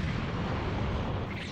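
Piccolo's Special Beam Cannon in Dragon Ball Sparking Zero lands as a loud, dense, sustained roaring blast that fills the space evenly, like a continuous explosion, with no voices over it.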